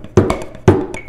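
A drum kit plays quintuplets for a 5:4 polyrhythm. Two loud accented hits land about half a second apart, each followed by quieter, quick strokes, all close and with no talk over them.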